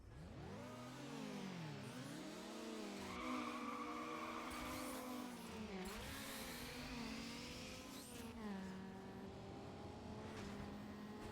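Racing car engine in Need for Speed Underground, over-revving with a high, wavering whine that climbs and dips continuously alongside tire squeal and skidding, loud and steady throughout.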